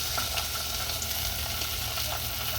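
Onions fried golden in a pan sizzle steadily as tomatoes go in, a continuous bright crackle and hiss with faint stirring clicks, close and even throughout.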